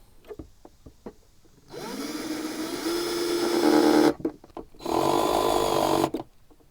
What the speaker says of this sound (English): all I did was use my drill and made 2 little holes to know where to run my screws